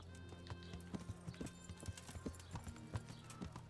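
Horse hooves clip-clop steadily in the video game Kingdom Come: Deliverance, a quiet, even trot with distant game ambience and no speech.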